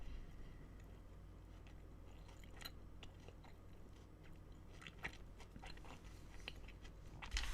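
Finnish chocolate being chewed up close, quiet moist biting and crunching in an uneven rhythm, with a few sharper crunches near the end and no speech.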